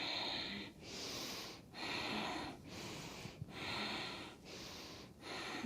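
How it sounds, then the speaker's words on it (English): Forceful rhythmic breaths in a breathing exercise, about six sharp nasal exhales with short pauses between, close and fairly soft, with no talking. "Again, powerful breath."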